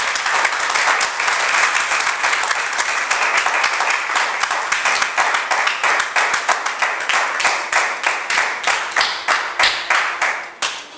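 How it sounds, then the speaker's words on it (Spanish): Church congregation applauding the Lord, loud dense clapping from a crowd that settles into a strong rhythmic unison beat toward the end. "Denle un fuerte aplauso al Señor"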